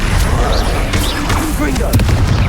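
An Expelliarmus disarming spell cast in the Hogwarts Legacy video game during combat, a brief magical whoosh and impact burst within a dense, loud mix of game effects and a voice calling out spells.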